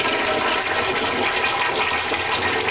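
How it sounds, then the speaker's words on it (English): A household toilet flushes hard and steadily, a continuous loud rush of swirling water filling the whole stretch without pause or voices. "So we're going to give it one more flush."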